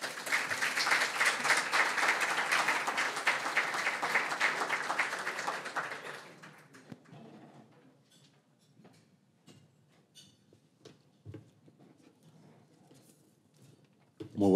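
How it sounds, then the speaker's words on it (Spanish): A business conference audience in Chile applauds a welcome speaker with a strong, steady burst of clapping that fades out after about six seconds into a quiet room with faint shuffling and stray sounds. "Lo recibimos con un fuerte aplauso."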